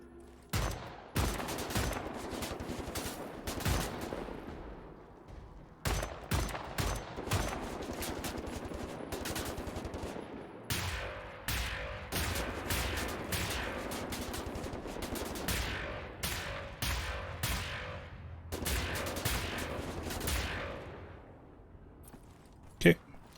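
Repeated bursts of machine-gun fire in Wolfenstein: The New Order, sharp volleys separated by short pauses and ending with one loud report, while someone talks over the shooting.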